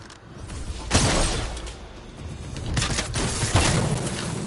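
Shotgun blasts and gunfire in the video game Fortnite, with two or three sharp loud bursts spaced a couple of seconds apart over a noisy, busy game background.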